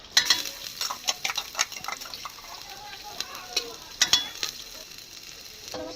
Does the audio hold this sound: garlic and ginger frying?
yes